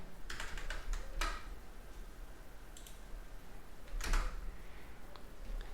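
A Linux terminal command is typed on a computer keyboard, with a few scattered key clicks and one louder press near the end, faint against a constant low hum.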